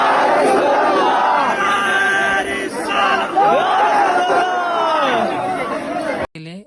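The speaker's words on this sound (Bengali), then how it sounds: "গেলে উনি খুব সুন্দর একটি তাকবীর দিয়ে আমাদের থেকে বিদায় নিলেন।" A crowd at the close of a mahfil, a religious gathering, raising a takbir chant together: loud, layered voices rising and falling in unison, with hubbub around them, cut off abruptly near the end.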